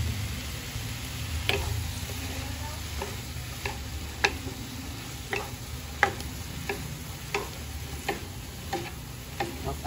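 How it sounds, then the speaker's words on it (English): Bean sprouts sizzle and fry steadily in a pan after oyster sauce goes in, with a spatula stirring and scraping in irregular clicks over the continuous hiss. "And then we're gonna add the oyster sauce."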